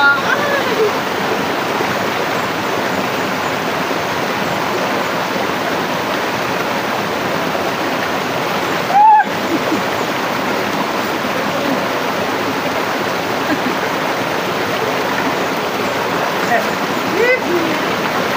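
Tanauan Falls pours in a steady, loud rush of falling water that fills the whole clip, with voices and a brief splash or knock now and then under the roar.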